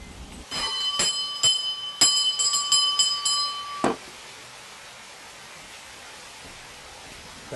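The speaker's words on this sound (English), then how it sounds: "Ring the bell." A bell rings out several times in quick succession at a game-show style inn, bright sustained tones stacking over one another for about three seconds, then cutting off into quiet room tone.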